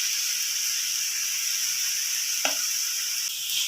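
Onions sautéing with salt in a pan make a steady, bright hiss, with one short clink partway through and no voices.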